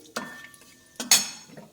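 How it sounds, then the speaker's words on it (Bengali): A spoon stirs bay leaf and five-spice tempering frying in oil in a pan. It makes two sharp metallic clinks and scrapes close by, with a faint sizzle between them. "নেড়ে নিচ্ছি।"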